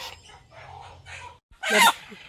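Hens clucking near a nest box where a broody hen is being settled onto eggs for hatching chicks; soft low clucks run through the first part, then one loud, sharp squawk rings out near the end.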